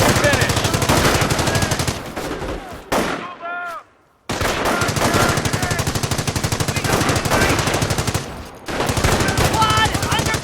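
Sustained machine gun fire from the Company of Heroes WWII strategy game, loud rapid bursts that run almost continuously, broken by a brief lull with a synthetic game voice and a moment of near silence before the firing resumes.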